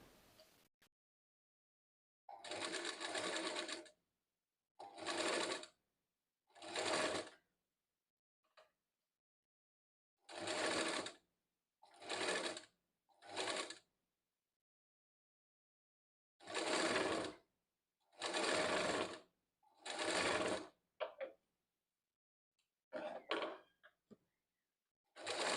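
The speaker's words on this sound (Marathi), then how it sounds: "दोन्ही बाह्या आपल्या झटपट शिवून अशा तयार झाल्या." A sewing machine stitching blouse sleeves runs in short, loud, close bursts of rapid needle chatter, separated by pauses of silence as the fabric is turned between runs.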